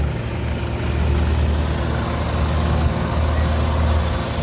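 A 2017 Nissan Grand Livina XV with manual transmission idles steadily with its air conditioning switched on, a close, continuous low engine hum and rumble that holds even throughout.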